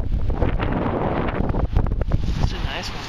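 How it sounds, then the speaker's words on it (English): Steady wind buffets the microphone on a windy day of fishing, a low rumbling roar with gusty swells throughout. "Considering it's windy."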